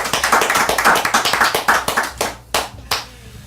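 A small audience claps for a Brazilian radio program guest, distinct individual hand claps in quick rhythm that thin to a few scattered claps before stopping.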